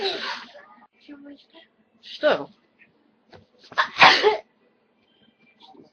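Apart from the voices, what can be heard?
sneeze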